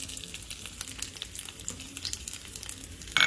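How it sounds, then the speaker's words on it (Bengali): Diced onion and capsicum fry in hot oil with spices tempering in it, a constant soft crackling sizzle that stays fairly faint, then a brief louder burst at the end. "এরকম ডুমো ডুমো করে পেঁয়াজ আর ক্যাপসিকাম, সেটাও আমি এই ফোড়নে দিয়ে দেবো"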